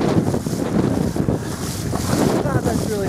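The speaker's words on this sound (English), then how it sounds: "This wind is not helping one bit either." Outdoor wind gusting loudly against the microphone in a steady, rough buffeting rush, with a faint voice murmuring underneath.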